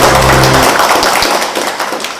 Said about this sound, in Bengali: যাক আর একবার হাততালি